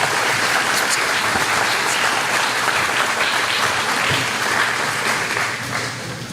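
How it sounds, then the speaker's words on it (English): An audience at a school graduation ceremony applauding parents and families, with dense, sustained clapping from a large crowd that holds steady and then fades slightly at the end. "Can we have a round of applause for our parents and our families sitting here?"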